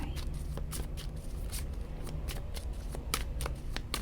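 Tarot cards are shuffled and drawn at close range for a pick-a-card reading, giving a soft, continuous riffling and flicking with occasional sharper card snaps.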